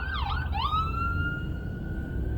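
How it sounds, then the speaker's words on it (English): Wailing emergency siren sweeping up and down twice, then holding a long steady tone, loud and near over a low rumble of traffic. "Sirens everywhere, just non-stop sirens."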